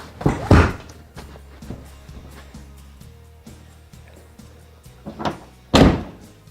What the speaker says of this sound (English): I'm gonna have to open the gate to get the tire out of the way.